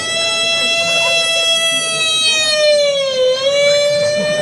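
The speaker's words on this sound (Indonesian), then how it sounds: "Nah, itu ambulan dong." An ambulance siren wails loud and close near a temple Calonarang ceremony at Pura Siwa Sading in Kerambitan, Bali, a steady harmonic tone that dips in pitch as it passes, then climbs back, with faint voices beneath.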